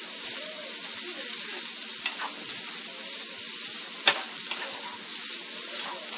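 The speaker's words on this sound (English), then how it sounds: "sauteing it just as well works fine" Chicken empanada filling sautéing in a pan, a steady close sizzle with occasional scrapes and clicks of a utensil stirring, no voices.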